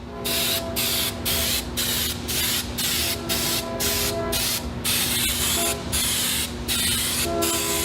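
A loud aerosol spray of adhesive onto a sound-deadening panel hissing close by in quick, regular pulses, about two bursts per second, running continuously without speech.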